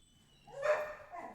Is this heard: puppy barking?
yes